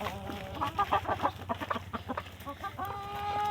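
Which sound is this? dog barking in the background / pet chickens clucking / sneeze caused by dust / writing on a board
pet chickens clucking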